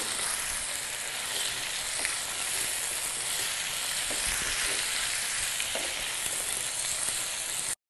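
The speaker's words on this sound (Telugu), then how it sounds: "ఇప్పుడు ఈ చికెన్ అంతా ఆయిల్లో మనకి ఫ్రై అవ్వాలి బాగా కలిసేలాగా కలుపుకుందాం" Chicken frying in oil for ginger fry chicken, a loud, steady bright sizzle with occasional stirring knocks and scrapes from start to finish.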